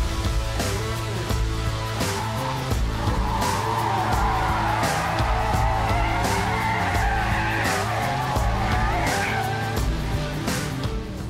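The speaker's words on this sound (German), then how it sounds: "Ich glaube, wir können noch brutaler in die Kurve reindriften." A Porsche Panamera Turbo S drifts through a curve, its tires squealing and skidding loudly over a throbbing engine note, the squeal swelling and wavering through the turn, close and continuous.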